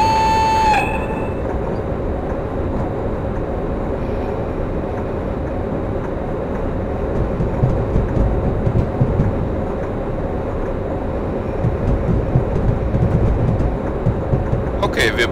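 A freight train hauled by a BR151 electric locomotive runs along the main line, giving a steady, loud rolling rumble with a brief tone at the start and clattering wheel noise that swells near the end.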